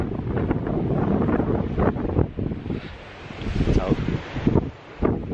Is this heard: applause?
no